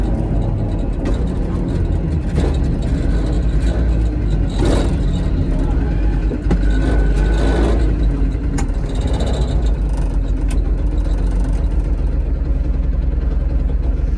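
A Piaggio Ape 50 three-wheeler drives along, its small engine giving a steady, fairly loud drone with road rumble throughout, and a person talks over it.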